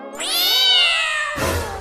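A cat lets out one long, drawn-out meow that rises and wavers in pitch before breaking off into a short noisy rustle, close and clear with no talking.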